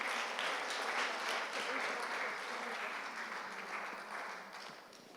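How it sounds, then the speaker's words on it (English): Conference guests receive a round of applause at an International Women's Day event, sustained even clapping from a sizable crowd that tapers slightly toward the end. "Round of applause for you guys"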